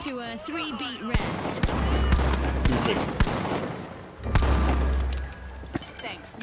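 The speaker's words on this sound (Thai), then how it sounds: "มันยิงกันอยู่ข้างบนอ่ะ มันยิงกันเอง" Gunfire in the video game THE FINALS as players shoot each other, with bursts of automatic fire and heavy booming impacts over a continuous clatter, loud and close, while a voice talks at the start.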